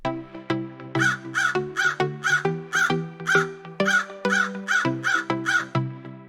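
Crows caw loudly and repeatedly, a rapid series of harsh calls with overlapping voices, close by and continuous.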